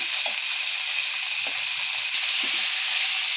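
Bone-in chicken pieces frying on a high flame for haleem, a steady loud sizzle and hiss with a few faint stirring clinks, close by.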